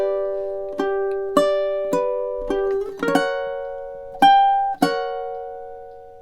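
Fingerstyle ukulele plucks through two measures of a relaxing song, clear bright notes ringing out alone in an uneven rhythm with a few short pauses and sustained decays.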